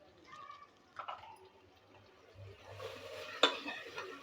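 A spoon stirs garam masala into dal fry in a pan, giving faint scraping and light clinks of utensil against metal, with one sharper clatter near the end.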